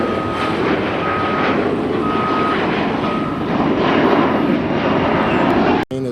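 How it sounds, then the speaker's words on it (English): A fast-moving airplane passes near a water recycling facility construction site in Playa Del Rey, Los Angeles, its engine roar loud and steady, mixed with repeated reversing beeps from site trucks and a sharp thud near the end. "look at this plane. Look how fast he's going"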